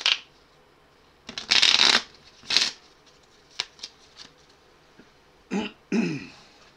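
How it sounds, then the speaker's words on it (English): A deck of playing cards being riffle-shuffled during a tabletop card game, heard as several loud, close bursts of fluttering card riffles and taps with short pauses between them. "Okay, let's try a real shuffle."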